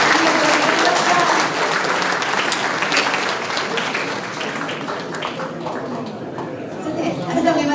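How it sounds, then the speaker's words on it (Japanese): Sustained applause from an audience at a book launch celebration in a Tokyo hotel banquet hall, steady and dense clapping throughout with faint crowd chatter underneath, easing slightly toward the end. "この武器友子様にもう一度盛大な拍手をお願いいたします。"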